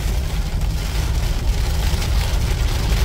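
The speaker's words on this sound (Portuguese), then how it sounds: "gravo essa chuva dirigindo numa caminhonete" Steady rain drums on a pickup truck while it drives, a dense, continuous hiss over a low engine and road rumble that stays even and close throughout, with no talking.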